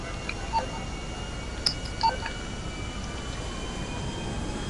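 An airplane engine in the video game GTA 5 drones as a steady background whine, with a few short electronic beeps on top.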